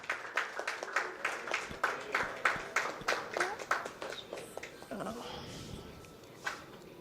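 Applause at a jewellery shop's discount-offer inauguration in Theni, a small group clapping fairly quietly with uneven rhythm, tapering off toward the end, with some talk in the background.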